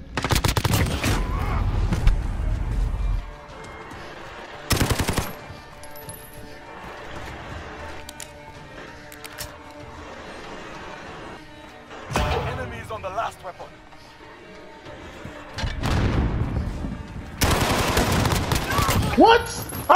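Gunfire from the video game Call of Duty Modern Warfare crackles in loud bursts of rapid automatic shots, with several heavy volleys scattered across the stretch and quieter gameplay sound between them, while a player talks over it.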